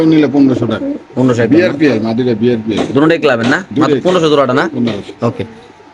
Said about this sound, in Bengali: রেস করা রেসার কবুতর বিআরপিএফসি ক্লাবের কবুতর দেখতে পাচ্ছেন